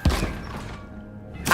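In Hogwarts Legacy, a Bombarda blasting spell lands with a heavy, close thud, followed by a second impact about a second and a half later.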